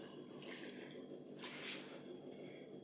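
Near-boiling water poured from a kettle over Tlemcen-style couscous (seffa) with dried fruit, a soft continuous splashing trickle with a brief louder gush midway, close and steady throughout.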